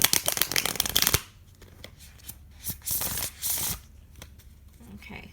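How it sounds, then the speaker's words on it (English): A Dark Mansion tarot deck being shuffled: a loud, dense burst of riffling cards in the first second, then softer, intermittent shuffles and card slides close to the microphone. "hopefully I have shuffled the Dark Mansion enough."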